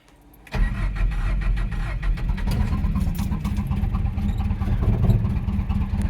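The Cave Dweller vehicle's engine, running a rich mixture, cranks and catches after a short quiet moment. It then runs loud and close at a steady, rough idle until the end.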